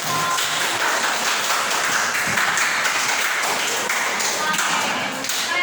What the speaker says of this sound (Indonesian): beri tepuk tangan untuk keren